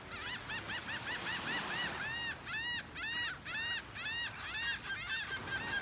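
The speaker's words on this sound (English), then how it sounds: "Seagulls flying by." A flock of seagulls flies over a beach in North Naples, Florida, giving repeated loud, close calls that rise into a rapid chorus over the steady rush of surf.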